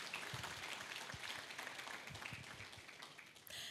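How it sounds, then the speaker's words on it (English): An audience gives a round of applause for the Chief of York Regional Police in Canada, a dense, steady patter of clapping at a fairly low level that continues without a break for several seconds. "Ladies and gentlemen, please give him a big round of applause."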